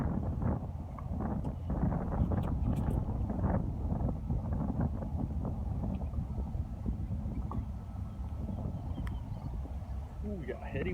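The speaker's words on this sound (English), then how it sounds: "Ooh, we got a heady wind." Wind blows across an outdoor disc golf course as a steady, fairly loud rumbling buffet on the microphone that lasts the whole clip, with faint voices under it.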